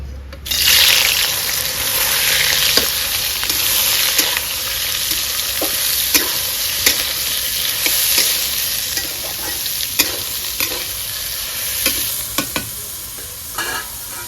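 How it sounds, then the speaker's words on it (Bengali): Soybean chunks fry steadily in hot oil for a vegetarian papaya and soybean curry, giving a loud, continuous sizzle with repeated stirring clicks and scrapes throughout. "আমার তেল গরম হয়ে গেছে, এখন আমি সবিন ভেজে নেব।"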